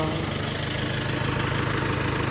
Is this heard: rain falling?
no